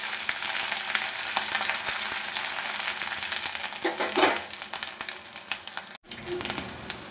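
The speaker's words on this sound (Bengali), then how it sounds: "ওই তেলের মধ্যে আমি দিয়ে দেবো লং, এলাচ, দারচিনি, তেজপাতা, একটা শুকনো লঙ্কা" Whole spices (cloves, cardamom, cinnamon, bay leaf, dried chilli, cumin) and grated ginger sizzling in hot oil, a loud, dense crackle with scattered pops and a brief stirring scrape, cut off by a short gap near the end.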